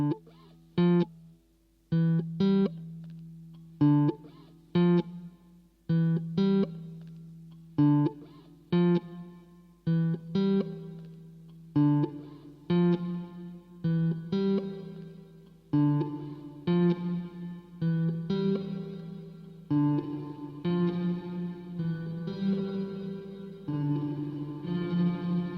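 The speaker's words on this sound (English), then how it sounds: "And then this is now a reverb." A SOMA COSMOS looper plays repeating plucked tones through reverb, each note ringing out with a washy tail that builds into a denser echoing layer over time.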